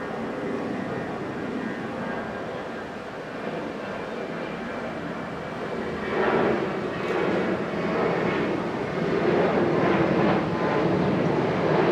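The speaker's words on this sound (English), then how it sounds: "Concentrate on aircraft. Taking off." A commercial jet taking off from Okinawa's airport roars at a distance as a steady rumbling drone that swells louder in the second half, with no voices present.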